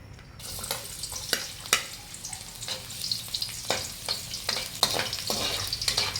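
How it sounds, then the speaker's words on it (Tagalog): Onion and garlic sauté in a pan for Bicol Express, a close crackling sizzle broken by repeated sharp scrapes and stirs of a utensil, with no one talking. "igisit ng sibuyas bawang"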